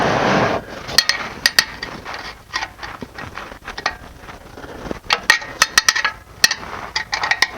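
Rubber mallet tapping an oil drain plug on a 2013 Mercedes-Benz C300 during an oil change: a series of sharp, close knocks and clinks in irregular bursts, with some faint handling noise between strikes.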